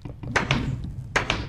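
A wooden door in the Minecraft video game slams shut, giving a few sharp thuds and clacks close by, with a quieter knock between them, all over a low ambient game hum.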